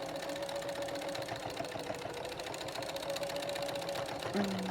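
A sewing machine stitching a headband seam through thick layered fabric with a 5/8 inch seam allowance, running as a steady continuous hum close by and alone, with a slight change in pitch near the end.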